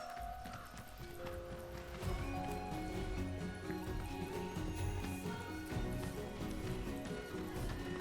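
A chocobo gallops in the video game Final Fantasy 7 Rebirth, with rhythmic clip-clop footfalls running continuously over the game's music and ambience.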